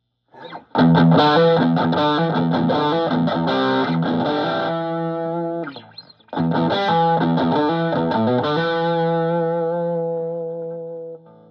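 An electric guitar on its bridge pickup through a Fulltone OCD overdrive pedal rings out two loud, heavily distorted strummed chords. Each chord sustains and slowly fades, with a brief gap between them.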